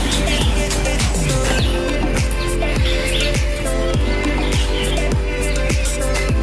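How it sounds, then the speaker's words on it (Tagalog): Birds chirp and call repeatedly in a botanical garden with bamboo and a fountain, loud bright tweets over a steady background wash. A regular low thumping pulse runs under them, and no one speaks. "Maririnig mo talaga dito ang huni ng mga ibon."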